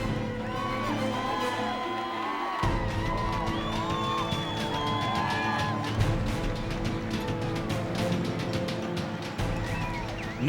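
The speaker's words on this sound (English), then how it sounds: "No bike race is complete without the lunacy of the screaming fans just inches away from the competitors" Screaming fans cheer and whoop inches from riders on a steep climb of the Leadville Trail 100 mountain bike race in 2009, a dense, continuous crowd din full of shrill yells and whistles.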